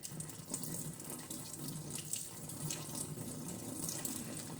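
Water pours steadily at a kitchen sink as the top layer is tipped off a container of fermenting cucumber seeds, a continuous close splashing hiss with no talking.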